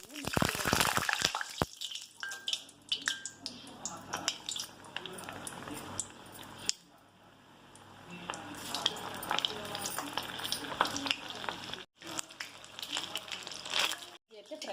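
Steady crackling sizzle of chili fritters (mirchi bajji) frying in hot oil, close by, with occasional stirring clinks and a voice speaking over it.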